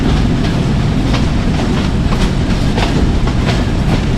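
Loud, steady rumble of a passenger train from Rawalpindi to Havelian rolling along the tracks in rain, with rhythmic clickety-clack from the wheels heard from inside the carriage.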